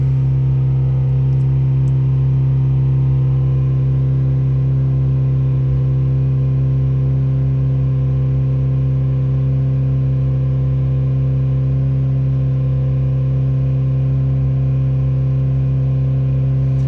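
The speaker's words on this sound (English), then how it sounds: "Some funny noises coming out of the gearbox" A Mitsubishi Evo X with an SST gearbox hums steadily during a reteach procedure, a constant low drone with stable tonal whine and no clear changes, loud and close with no speech.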